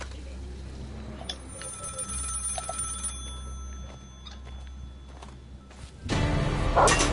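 Telephone ringing in the video game Maid of Sker, set in Hotel Sker: repeated bursts of a bright bell ring over a low game drone, with a sudden louder noise breaking in near the end.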